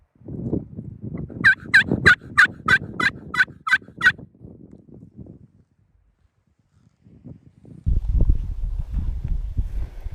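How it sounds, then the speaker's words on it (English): Wild turkeys gobble in a burst of about eight rapid, ringing calls, followed by quieter rustling and then steady wind noise in open spring woods. "Got a handful of turkeys gobbling all around us."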